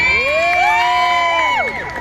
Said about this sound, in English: a cheer from the crowd